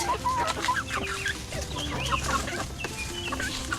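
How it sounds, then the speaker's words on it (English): Several chickens cluck and chatter continuously nearby, overlapping soft calls with occasional sharper notes, no talking. "we got a couple more of the chickens out"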